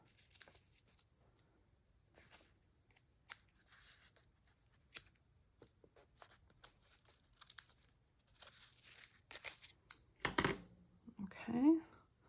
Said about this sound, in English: I am going to cut off these little edges